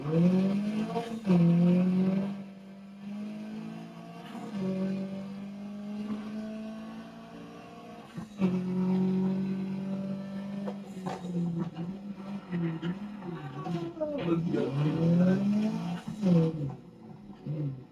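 Engine revving and tire squeal from a racing video game played on a PXN V900 steering wheel: rising and falling engine tones with gear-shift breaks, loud and continuous, no talk.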